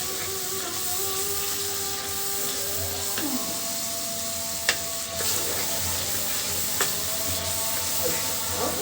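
Spice paste for beef curry fries and sizzles in a pan with a steady hiss, and occasional scrapes and clinks of stirring can be heard, with no talking.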